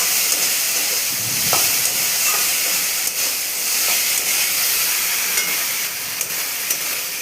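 Magur fish curry with fried potatoes is sautéed in a pan, giving a steady close hiss and sizzle with a few faint stirring clicks and no talking.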